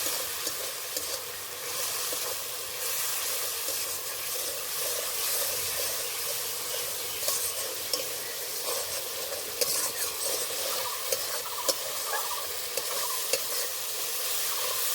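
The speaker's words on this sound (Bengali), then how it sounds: "আর হাফ চামচ মতন ধনের গুঁড়ো আর চেরা কাঁচা লঙ্কা এবার ভালো করে কষে নেবে" Spice paste with coriander powder, cumin powder and slit green chillies stir-fried in hot oil for a prawn curry with potato and aubergine, a steady close sizzle with repeated scraping and stirring strokes throughout, no voices.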